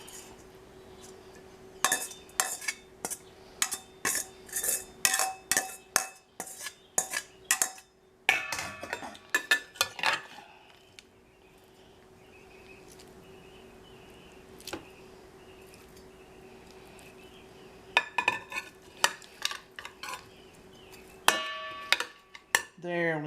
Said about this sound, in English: Start adding our salmon to this casserole.